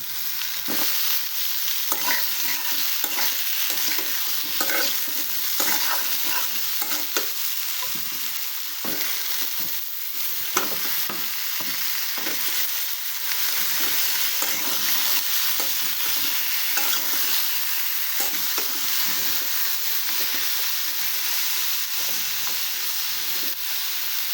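Pointed gourd (potol) fries in oil and is stirred in a pan during village cooking, giving a steady, bright sizzle with a constant hiss and the soft scrape of stirring throughout.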